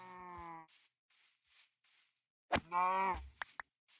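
Minecraft mooshroom cow from the video game, a short moo followed after a pause by a second longer moo, close and clear, with faint game clicks between and no talking.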